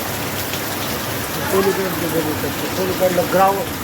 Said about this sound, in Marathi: कंटिन्यू पाऊस आहे, विदाऊट वाऱ्याचा पाऊस आहे